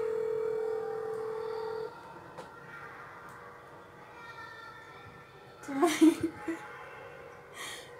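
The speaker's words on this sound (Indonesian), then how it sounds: "Nggak kejawab, saya telepon balik ya." A steady telephone tone holds for a couple of seconds, then quiet line noise follows before a brief muffled burst near the end.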